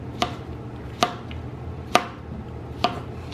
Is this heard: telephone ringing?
no